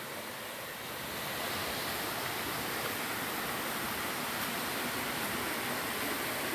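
River water flowing steadily over rocks in a shallow stream with many pools, near Curug Semar, a loud continuous rushing wash that fills the whole clip with no speech.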